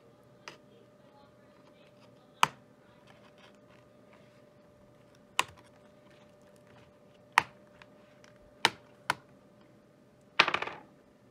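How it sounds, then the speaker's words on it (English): Keyboard retaining clips on an HP ProBook 440 G4 laptop popping loose, heard as several sharp isolated clicks spaced a second or two apart, ending with a brief louder rattling snap, over a quiet hum. "Should hear it pop, and once you get that initial pop, it should just be easy to go along and just remove the clips."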